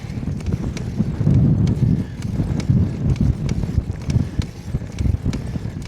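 Strong wind buffets the microphone while cycling, a steady low roar with gusting swells and faint rhythmic clicks throughout, no talk.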